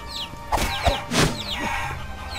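Short bursts of chick clucking in the video game Guacamelee, a few quick squawks in a row, clear and close over a quiet background.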